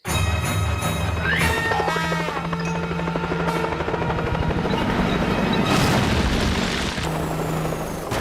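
A loud helicopter drones steadily throughout, joined by booming blasts and rumbling noise in a busy animated action scene with a tank.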